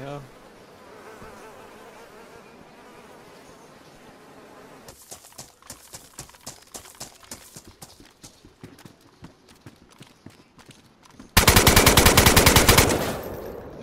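Gunfire in a multiplayer shooter game during a base raid: sparse, sharp popping shots rattle off in an uneven string, then a loud, dense sustained burst of rapid fire erupts near the end, with no talking.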